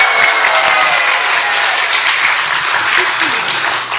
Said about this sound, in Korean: 박수까지 치고 박수 치고 소리 질러